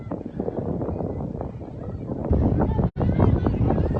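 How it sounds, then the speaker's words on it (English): Steady wind buffeting a microphone at an outdoor youth football game, a broad low rumble that swells louder partway through, with a brief dropout near the end. "It's windy down here."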